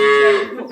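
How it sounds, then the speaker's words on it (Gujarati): A cow in a cow shed gives one loud, close moo with a strong steady tone that trails off after under a second. "ગાયનો તબેલો છે"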